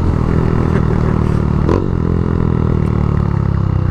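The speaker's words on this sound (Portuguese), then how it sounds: "Escapamento barulhento da porra, mano." A Honda Fan 160 motorcycle fitted with a 190cc kit and a loud exhaust idles and revs close by, a steady, dense engine roar with a brief throttle swell midway.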